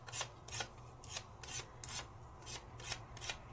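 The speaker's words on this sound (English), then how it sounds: "this is sandpaper that comes in the Gamsol kit" A watercolor pencil rubbed on the small sheet of sandpaper from a Gamsol kit gives soft, raspy strokes in a steady back-and-forth rhythm, close up and fairly quiet, with no talking.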